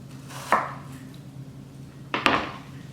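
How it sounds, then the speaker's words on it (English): A knife cuts through Granny Smith and Crisp apples on a board in two distinct crunchy chops, close and clear over a low background hum. "I don't want them to turn brown while I'm cutting the rest of them"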